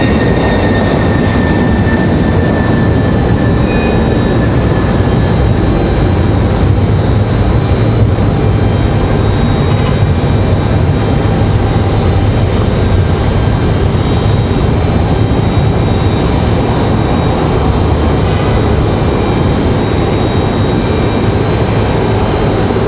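A Delta Embraer E175 jet at Raleigh-Durham International Airport gives a loud, steady engine roar that stays constant and close for the whole stretch, with no talking.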